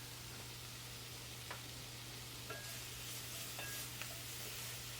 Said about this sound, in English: Just keep stirring so the garlic doesn't burn